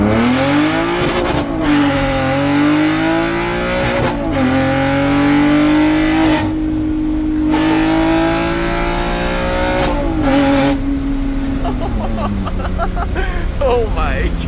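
A BMW N52 engine with a loud, aggressive aftermarket exhaust revs repeatedly up close, each rise in pitch snapping back before climbing again, steady and dominant for the whole stretch, with brief voices underneath.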